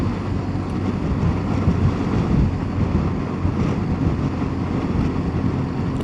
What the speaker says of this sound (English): but it's blowing a gale.